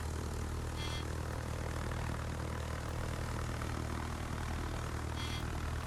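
Propeller bombers launched from Essex and Malta aircraft carriers in World of Warships drone steadily, a loud, even engine roar with no break, heard alone without any talk.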